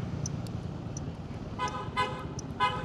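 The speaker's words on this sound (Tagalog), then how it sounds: "Naka big bike tayo pero busina natin ay tunog baby." A Zontes 400G motorcycle's weak, high-pitched horn gives several short thin toots in quick succession, fairly faint against low road and engine rumble.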